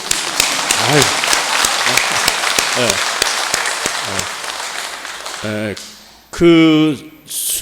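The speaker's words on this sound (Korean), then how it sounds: "박수" A Catholic congregation at Mass in Sinjeju Cathedral, Jeju, applauds with a loud, dense patter of many hands that fades gradually, and a voice cuts in with speech near the end.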